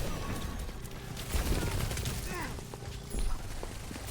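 Gunfire bursts in a team shooter video game match, dense and continuous with louder volleys, layered over game effects and an excited caster's commentary.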